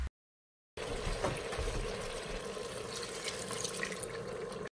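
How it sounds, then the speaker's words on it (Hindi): Half a cup of water pours into a pressure cooker holding browned mutton and spice masala, a steady close splashing stream after a brief silence. "मैं यहाँ पे 1/2 कप पानी ऐड कर रही हूँ"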